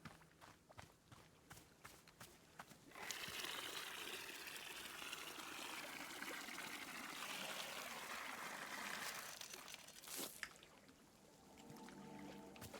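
Watering plants in the cozy garden game Wanderstop: a steady, bright splashing pour of water runs for several seconds alone, starting abruptly and stopping with a small clatter, framed by soft footsteps and light game sounds.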